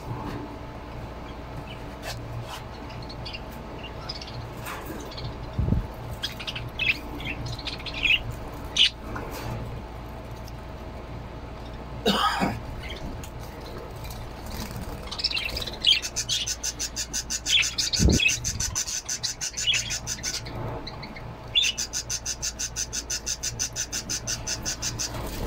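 Many small birds chirp and squawk in a confined space, with scattered calls, a few sharp louder squawks and rapid twittering bursts.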